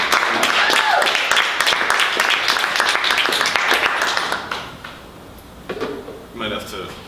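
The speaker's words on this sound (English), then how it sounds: "Everybody give a big round of applause for Jim Trainer." Audience applause at a book launch in a bookstore, a dense burst of clapping that fades after about four seconds, followed by scattered quieter sounds and brief murmurs.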